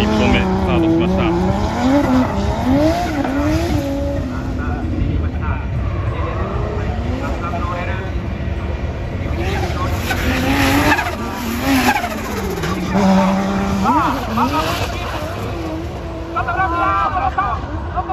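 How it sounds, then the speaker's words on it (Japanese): Nissan C33 Laurel drift car on a D1GP qualifying run at Ebisu South, tires squealing and engine wailing continuously under loud crowd noise and commentary, with a PA announcer talking throughout. "木口選手予選1本目スタートしました。"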